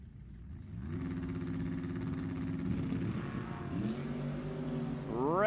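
Drag race cars at a Halloween drag racing event, including a 1974 Chevy LUV, heard as a steady engine drone that builds, shifts pitch midway and then climbs into a rising rev at the end.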